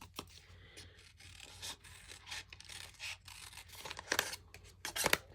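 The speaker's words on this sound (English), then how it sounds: "I would have to give up if I had to use scissors like this all the time" Scissors cutting through fabric scraps, a run of close, dry snips and rasping blade strokes with short pauses, louder crisp cuts near the end.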